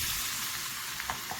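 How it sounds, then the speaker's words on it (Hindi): Flax seed laddoo flour mixture of besan and wheat flour roasting in desi ghee in a pan, giving a steady soft sizzle with a few light stirring scrapes near the end. "यहाँ पर हमें इसे बस 1 से 2 मिनट भून लेना है"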